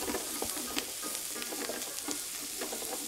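Ginger garlic paste sizzles in a pan, a dense steady hiss with quick scraping stir strokes over it, close and moderately loud, with no speech.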